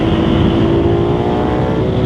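A BMW R12S motorcycle pulling hard under acceleration in third gear, a loud, steady engine drone with a strong low rumble and wind roar.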